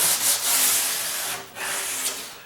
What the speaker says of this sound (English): before I even started sanding, initially I went around and I tried to get off the fingerprints